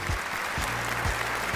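Studio audience applause for the top 16 contestants at a Pakistan Idol gala round, a dense steady burst of clapping filling the short stretch.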